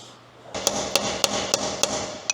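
Hammer striking a steel chisel to break a rusted nut off a 30-year-old Ford F250, six sharp evenly spaced metallic blows ringing close and loud over a steady background hum.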